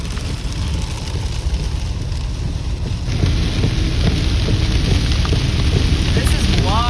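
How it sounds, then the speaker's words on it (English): Hail pelting a van's roof and windshield during a storm with tornado warnings, a dense continuous rattling roar that grows heavier after a few seconds, with no one speaking over it. "It's officially hailing."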